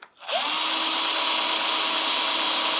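A power drill spins up and holds a loud, steady whine as it bores into a clay dragon sculpture close by.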